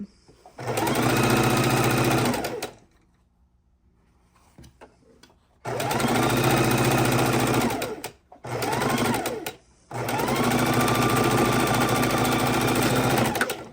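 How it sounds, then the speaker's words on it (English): A sewing machine stitches quilt blocks together in three loud, steady whirring runs, each lasting a few seconds, separated by short quiet pauses. "And we're going to stitch across, make sure our sides are lined up."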